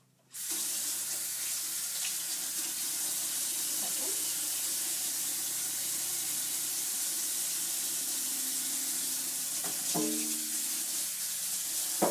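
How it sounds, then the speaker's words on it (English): Tap water running into a sink for hand washing, starting abruptly and then flowing steadily and fairly loud, with a few clinks and a brief splash change near the end. "So I am going to wash my hands"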